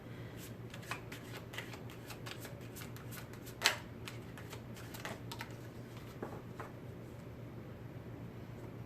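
Tarot cards shuffled quietly at close range, a steady run of soft riffling flicks and taps with one sharper slap partway through, no talking.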